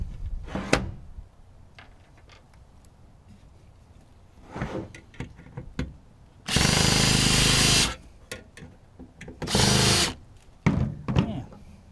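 A power screwdriver backs screws out of a server switch in two loud sustained whirring bursts, each lasting about a second, with scattered clicks and handling knocks of metal parts between them.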